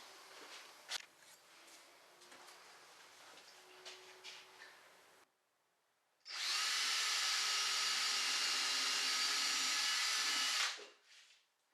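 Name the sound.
driving screws into storage box legs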